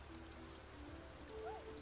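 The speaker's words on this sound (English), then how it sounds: "And the rains are here." Rain falls steadily in the survival game Niche: Legacy of Aurora, a soft, even patter with scattered drop sounds and a faint tone rising and falling near the end.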